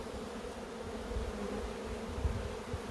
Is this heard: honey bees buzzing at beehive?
yes